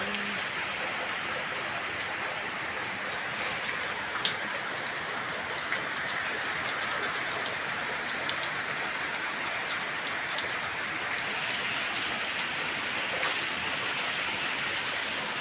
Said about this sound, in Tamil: இன்னைக்கு எங்கள் ஊரில் மழை பாருங்க.